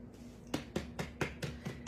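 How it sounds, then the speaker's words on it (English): Biscuit dough is patted out by hand on a work surface, giving a run of about seven soft, evenly spaced slaps close by over a faint steady hum. "I'm going to pat this out like this."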